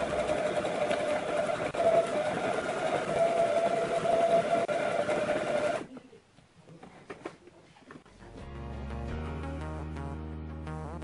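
A Brother GS2700 sewing machine stitching: a steady, loud mechanical whirring hum for about six seconds that stops abruptly, followed by a few soft clicks and then a quieter, tonal musical passage.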